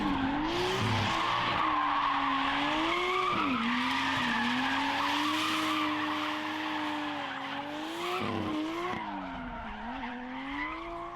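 A drifting car's tires squeal and skid continuously on a track, with the engine note rising and dipping through a gear upshift, loud and close.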